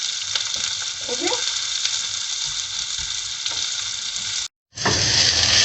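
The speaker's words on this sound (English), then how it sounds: "Okay, saute till it gets a little bit burnt, the onion." Onions and curry leaves sauté loudly in a pan for homemade rasam, a dense continuous sizzle with a brief spoken word and stirring sounds, cutting out briefly before the frying resumes even louder.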